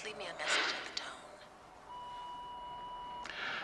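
An answering machine's message tone sounds after a recorded greeting in a 1986 film scene: a single steady electronic beep of about one and a half seconds, clear and moderately loud, preceded by brief voices and room noise.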